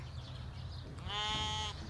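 A goat at a masara goat farm in Al Ain lets out one loud, near, drawn-out bleat over a low background hum.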